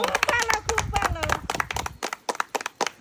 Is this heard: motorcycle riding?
no